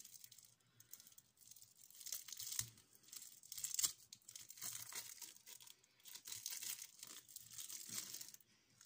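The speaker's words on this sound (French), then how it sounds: "Ensuite, je vais ouvrir mes petits savons." Plastic packaging around small flower-shaped soaps being torn open, quiet close crinkling and ripping in repeated bursts with brief gaps between them, no voices.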